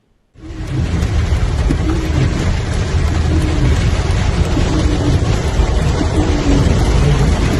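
Heavy monsoon rain pours down in Nilambur, Kerala, a loud, dense, continuous roar of downpour with a low rumbling undertone, starting abruptly and holding steady with no voices.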